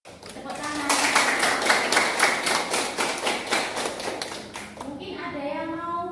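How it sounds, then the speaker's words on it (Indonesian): Students in a biology classroom clap in a quick, rhythmic burst of distinct hand claps, fairly close, before the clapping stops and a voice begins talking. "Tepuk tangan."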